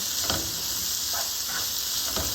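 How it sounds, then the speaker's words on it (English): Food stirred in a large kadai while making Chennai-style roast: a steady hiss of sizzling oil runs throughout, with a few short scraping strokes of the spoon against the pan at intervals, close and fairly loud. "Stir it well."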